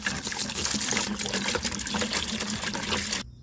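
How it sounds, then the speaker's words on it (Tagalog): A gallon of vinegar pours steadily into a bucket for a dish-soap weed-killer mix, a continuous splashing rush of liquid for about three seconds before it abruptly stops. "Buhos ko na yung 1 galon dito sa balde."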